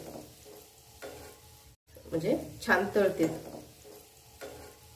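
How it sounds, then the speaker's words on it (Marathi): Gulab jamun fry in hot oil over a lowered flame, a faint, even bubbling sizzle with a few light clinks, partly covered midway by a person speaking. "आपले गुलाबजामुन चांगले तळले जातात आतपर्यंत"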